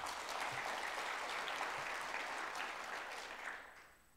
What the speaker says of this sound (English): So everybody applaud for Winnie